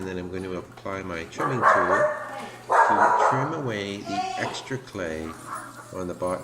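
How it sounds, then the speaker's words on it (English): A dog barks in the background of a pottery studio while a potter talks continuously, trimming a clay bowl on the wheel; the barks are mixed under the steady speech. "That's my dog barking there"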